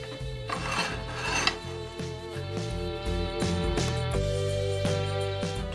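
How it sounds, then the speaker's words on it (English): An oak bird house ornament spins on a wood lathe while being sanded: a steady motor hum with a continuous rasping, scraping friction that swells and eases over several seconds. "I'm going to part off this end, and then part off this end, and do my final sanding and finishing off the lathe."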